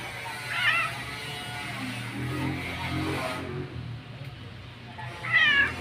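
A cat meows twice indoors, short distinct calls at the start and end with quiet background noise between.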